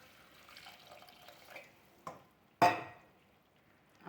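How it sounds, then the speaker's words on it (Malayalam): Water splashes into a simmering tomato base for a homestyle Kerala sardine curry, a single loud pour bursting out after a few faint kitchen clatters. "ഇനി അതിലേക്ക് കുറച്ച് വെള്ളം ഒഴിച്ച് കൊടുക്കാം"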